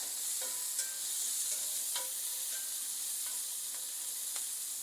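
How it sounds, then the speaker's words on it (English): Diced onion sizzles steadily in a hot pan while being stirred, a continuous frying hiss broken by light scrapes of the spoon against the pan. "I've got 1 onion diced. And we're just going to get this started in the pan."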